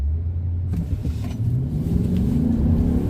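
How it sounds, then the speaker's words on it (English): A 2023 Nissan Titan Platinum Reserve pickup peels out from a standstill. After a brief quiet moment, its engine surges into a loud, rising rumble that builds steadily as the truck accelerates. "This time I'm not going to care if I peel out."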